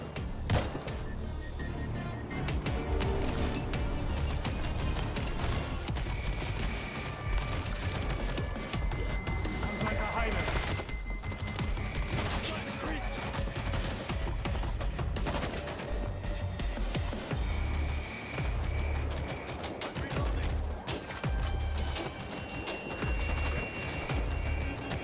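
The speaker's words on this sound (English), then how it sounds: "Machine guns locked in. If it shoots, I'll take it." Sustained, loud machine gun fire rattles almost without pause in the World War Z video game, layered with dense battle noise throughout.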